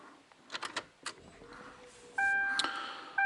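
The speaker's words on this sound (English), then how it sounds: "So you also do want to wait for those chimes to finish beeping." A Ford Crown Victoria sounds electronic confirmation chimes during key-cycle programming: a few faint clicks and knocks inside the car, then a steady two-tone chime tone that keeps sounding near the end.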